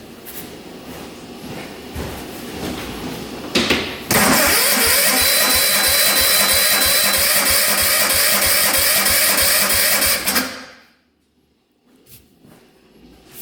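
Engine cranking on a 1960s hydraulic 6x6 tank long left sitting with low compression: a rhythmic churning starter, then a loud sustained roar for several seconds before it cuts off abruptly into near quiet.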